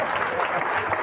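Audience applause at a town festival proclamation (pregón of the Fiesta El Pote), a dense, steady patter of many hands clapping for about a second, fairly close and alone.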